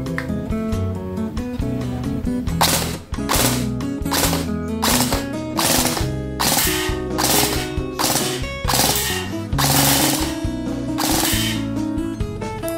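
An upgraded SR16 WGG gel blaster toy gun firing in full auto gives out repeated sharp bursts of rapid clicking shots, loud and close, with short pauses between volleys.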